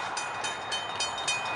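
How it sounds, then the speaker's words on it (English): A train passes close on the tracks in Council Bluffs, Iowa, with a steady rumble and rhythmic clacking of wagons rolling by, and no voices. "Watch, the train's coming."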